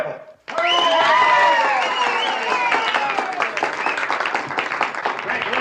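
An audience applauds loudly for the winner of a talent contest. The burst starts abruptly after a brief pause and turns into a sustained wash of clapping, with voices rising over it.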